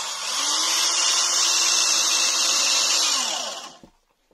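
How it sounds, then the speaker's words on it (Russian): A power drill whines at high pitch as it drives a screw at an angle into floor boards laid on joists, loud and close, running steadily for about three seconds before stopping abruptly. "Берем дрель и под углом 15 градусов загоняем"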